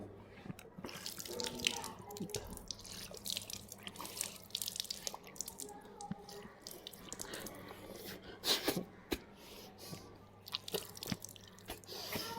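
Water is splashed and rinsed into the nose during ablution (wudu), with close, irregular drips, sniffs and trickling from a tap or basin.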